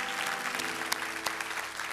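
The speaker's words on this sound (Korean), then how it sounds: "우리 성가대에도 박수 한번 해주시겠어요?" A church congregation claps steadily for the choir during a Sunday worship service, a dense wash of applause from a roomful of people, fairly soft and heard without talk.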